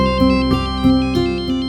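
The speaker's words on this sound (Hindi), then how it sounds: "फोन आ गया" A phone ringtone plays loudly and alone, a bright electronic melody repeating its short pattern of chimes roughly every third of a second, steady and close.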